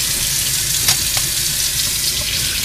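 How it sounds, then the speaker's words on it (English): A hand is rinsed under running tap water in a bus kitchen sink, giving a steady close splashing hiss with a couple of brief louder splashes, and no voices. "Rinse off our hand."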